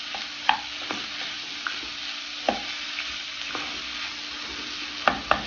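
Dragon chicken, an Indo-Chinese dish, stir-fried in sauce, a low steady sizzle broken by scattered utensil scrapes and clinks, a quick cluster of them near the end, no voices.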